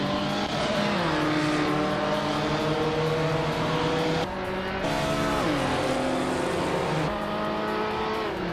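Engines of racing cars, a 1979 Puma GTE and a 1962 Morgan Plus 4 Super Sports, droning steadily and loudly as they shift through revs, with pitch rising and dropping at each gear change and no talk.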